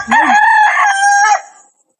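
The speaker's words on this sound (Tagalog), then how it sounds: "gugtak ang mga manok" A single rooster lets out one loud, close crow lasting just over a second, rising and then holding before trailing off into silence, with no speech around it.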